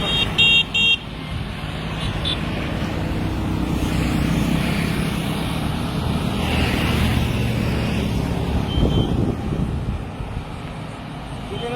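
Road traffic passes on a street near a village waste dump, a steady broad wash of car engines with a short horn toot at the start, close and fairly loud throughout.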